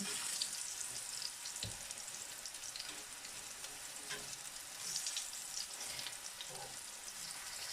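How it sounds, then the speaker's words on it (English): Steady, close sizzling of plantain frying in a hot cast iron pan, a continuous crackle with small pops throughout and no voices. "So I'm going to finish frying these up"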